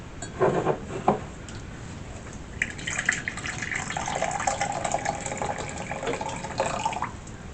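Warm water pours into a mixing bowl for yeast dough, a close, continuous splashing and gurgling that swells and settles over several seconds, with a few drips at the start.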